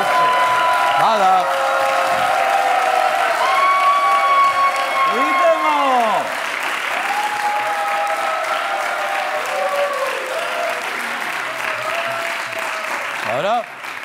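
A talk show studio audience claps and cheers loudly and continuously as a noise vote for guests. Whistles and shouting voices sweep through the dense applause, which eases slightly partway through.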